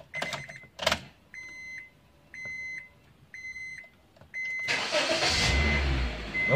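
A Honda Mobilio is started: a few clunks and repeated dashboard chime beeps, then the engine catches and settles into a steady close idle.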